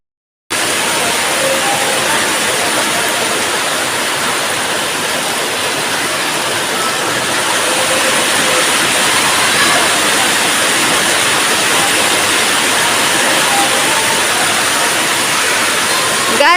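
Heavy rain pours down outdoors in a steady, dense roar, loud and close throughout, with many umbrellas held up in the downpour on the way to a madrasa.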